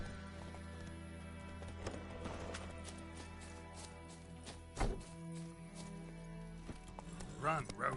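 Roach the horse from The Witcher 3 clip-clops along at a faint, steady pace beneath a continuous musical and ambient game backdrop, with a few louder hoof thuds standing out.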